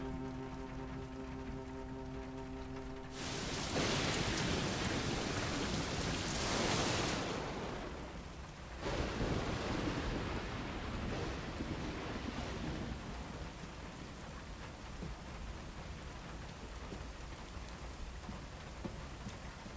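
Heavy rain pours in a steady dense roar, swelling into louder gusty surges partway through before settling back to a constant wash; no distinct thunder claps stand out.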